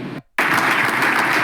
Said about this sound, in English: Everyone clapping.